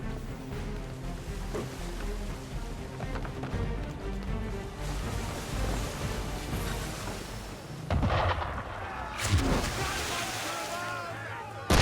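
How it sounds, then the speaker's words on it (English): Cannon fire booms at a boat on open water in Assassin's Creed III, heavy blasts over sloshing waves and creaking hull, with a sharp loud report near the end and a voice talking. "Why is he shooting at us?"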